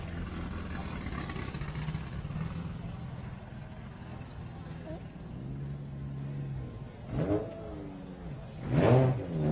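A Baja 1000 desert race car idles at a contingency-day lineup, then its engine revs in two sharp bursts near the end, while people talk nearby.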